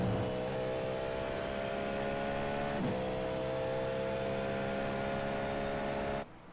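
Steady, loud engine drone from an LMP2 prototype race car in a racing video game during an hour-long European sprint car race, holding a constant pitch for several seconds before cutting off near the end.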